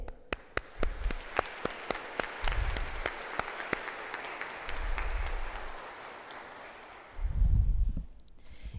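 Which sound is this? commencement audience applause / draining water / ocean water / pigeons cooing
commencement audience applause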